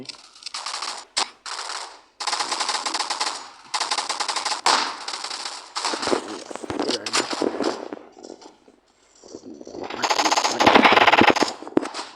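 A video game plays loud, close bursts of rapid automatic gunfire in several separate volleys broken by short pauses, with a longer rumbling barrage near the end.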